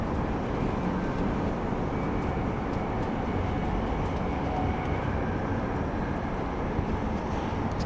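A train ride in the video game Deus Ex Mankind Divided carries a continuous low rumble with a steady mechanical drone throughout. No one talks.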